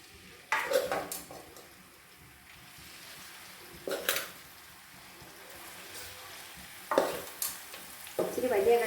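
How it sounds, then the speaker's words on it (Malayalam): Pieces of tuna frying in a pan for a coconut tuna pickle, a soft steady sizzle broken by a few louder bursts of stirring and spatula scrapes, with no talking. "ഓക്കെ, നമുക്കിപ്പോൾ ഇതിനെ വറുത്തെടുക്കാം"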